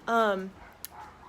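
One of the neighbour's dogs gives a single loud, tonal yelping bark close by, then it fades into quiet background noise.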